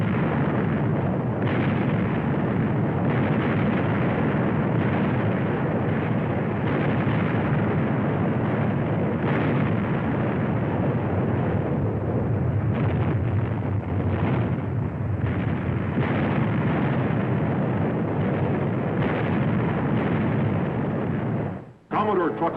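Naval cannon broadsides between sailing frigates, the Constellation against the heavier-gunned French Vengeance in 1800, rolling as continuous heavy booms and rumbling battle noise, loud and sustained throughout, under a speaking voice.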